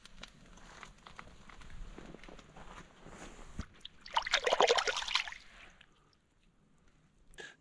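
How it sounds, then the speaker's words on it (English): Water splashing and dribbling over hands at a winter bushcraft camp, a burst of close wet splashing and trickling lasting about two seconds amid quieter outdoor rustling, fading to near silence. "I think I need to wash my hands."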